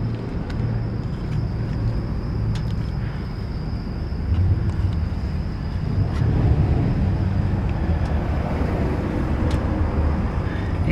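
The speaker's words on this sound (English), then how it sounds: "The exhaust is very quiet." A 1948 Cadillac Sedanette idles with a quiet exhaust, a low steady engine rumble heard close up with faint wind and background noise, rising a little midway and holding steady.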